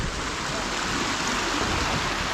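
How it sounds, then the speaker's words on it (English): The Mavare River in Nairobi flows in a broad, steady rush, like a strong stream or weir, filling the whole clip without pause. "This is where the river is coming from."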